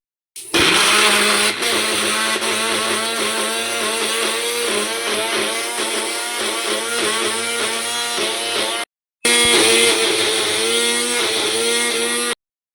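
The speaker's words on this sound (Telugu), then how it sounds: "మనం ఇది మిక్సీ పట్టేసుకుందాం." A kitchen mixer grinder blends onion chutney ingredients with sugar, salt and chili powder, a loud continuous whirring roar that runs for several seconds, stops briefly, then starts again.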